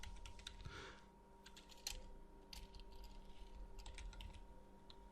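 Clicky typing on a computer keyboard, bursts of fast keystrokes heard close and quiet over a faint electrical hum.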